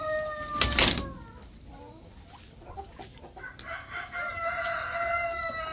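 Breeder roosters crow loudly nearby, one strong call early and another longer crow from a second bird near the end, with faint background farmyard noise between.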